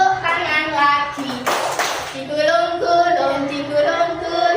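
A brief burst of hand clapping breaks into a children's action song sung in Indonesian in a classroom, the clapping short and crisp beneath sustained singing voices.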